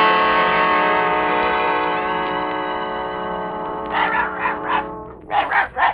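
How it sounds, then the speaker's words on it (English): A small dog barks several times in a 1950 radio drama of The Wizard of Oz, short sharp yaps in quick bursts following a fading sustained musical tone. "Look, it's Dorothy's dog."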